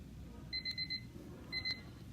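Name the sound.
timer alarm going off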